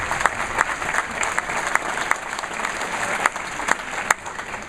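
Audience clapping at a school sixth-grade graduation ceremony, a continuous patter of many hands with sharper individual claps standing out, heard from within the crowd and with no talk over it.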